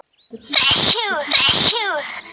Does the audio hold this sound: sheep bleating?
no